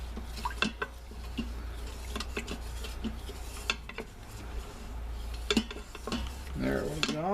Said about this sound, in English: Now we're just going to scrape up all those bits.